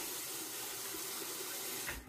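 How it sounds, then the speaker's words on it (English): Water runs steadily from a tap into a bathroom basin during a shave, a constant rushing stream close by that cuts off at the end. "Let me drain the basin there and wet the razor."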